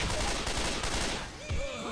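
Rapid gunfire in the zombie shooter Left 4 Dead 2, a quick dense burst of shots over about two seconds with game ambience beneath.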